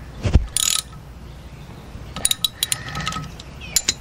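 Wrench ratcheting tight on the pinch nut of a VW Beetle drop spindle: a few close metallic clicks and clinks in short bursts, with brief scraping pauses between them.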